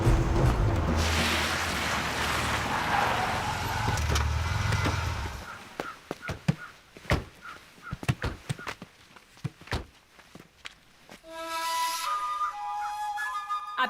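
A car driven fast during a chase, with a roaring rush of engine and wind that cuts off into a series of sharp knocks and thuds, followed by a whistling tone.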